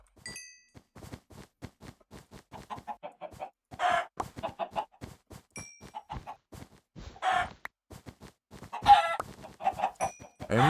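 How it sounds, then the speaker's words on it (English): Several Minecraft chickens cluck in irregular bursts of short calls, close and clear, with occasional louder squawks and faint high chiming tones between them. "This chicken, this one."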